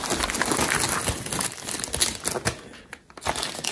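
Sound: unwrapping a boxed Power Macintosh G4 from its packaging

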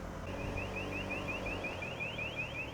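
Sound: alarm ringing

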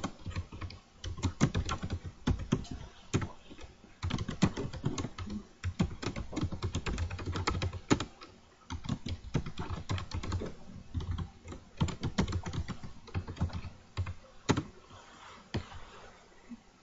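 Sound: typing on a laptop keyboard

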